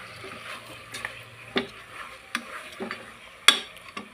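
A spoon stirs curry seasoned with chili powder and salt in a pan, giving soft, irregular scraping strokes against the metal, close by and fairly quiet, with short pauses between them.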